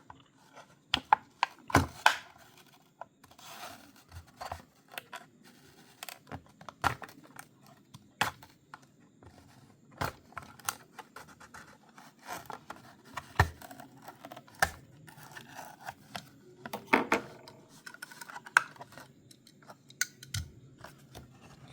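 A Hot Wheels mainline Chevy Silverado package is opened with quiet, scattered snips, crinkles and taps of cardboard and plastic, in sharp clicks spread irregularly throughout.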